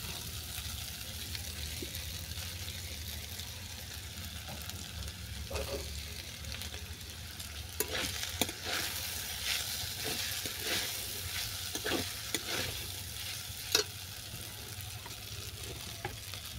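Boiled vermicelli tossed with lightly fried onion and vegetables in a pan, a low continuous sizzle with intermittent scraping stirs growing busier toward the middle, close and moderately quiet.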